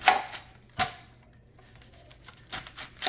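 Knife chopping an onion on a board, a handful of crisp, close cuts with a pause in the middle and a quick cluster at the end.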